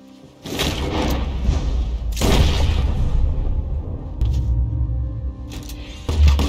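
Gunfire in the Red Dead Redemption 2 video game rings out as several heavy booming shots with echoing tails, loud and close, with no talking.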